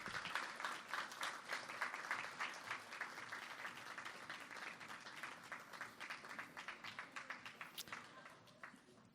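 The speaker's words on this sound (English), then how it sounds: "Can we give the kids another great round of applause?" Applause for children at a morning business event, a steady crowd of clapping lasting several seconds, dense and moderately loud, thinning into more distinct individual claps toward the end.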